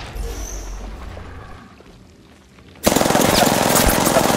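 Gunfire erupts in an Apex Legends trios match. After a quieter stretch of game ambience, a loud burst of rapid automatic shots breaks in abruptly and keeps going steadily to the end.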